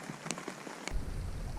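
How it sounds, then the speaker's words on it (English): Rain falling at a lakeside campsite on Devil's Bay during a Temagami canoe trip, a soft steady patter with a few nearby drips and no voices. "it's still raining, and there's some dark clouds everywhere"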